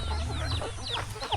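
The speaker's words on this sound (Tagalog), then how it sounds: "ang dami ng mga manok na naghihintay guys" Chickens waiting to be fed cluck and squawk nearby in a short busy burst of overlapping calls over a steady low rumble of background noise.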